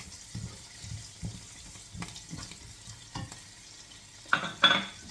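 Garlic sizzles in a pan for chicken with mushroom and cream, a soft steady frying hiss with scraping stirs throughout and two louder bursts of sizzle near the end.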